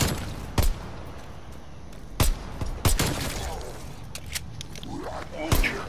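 Pistol gunshots from the Call of Duty Cold War Zombies video game, pistol-only play: a handful of sharp, loud cracks spaced irregularly over a steady bed of game ambience.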